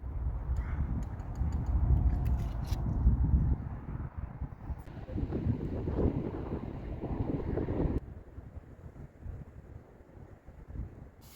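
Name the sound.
strong wind at a rainy campsite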